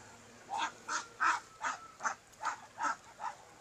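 Laying ducks quack in a regular series of about eight clear, moderately close calls, with quiet background between them.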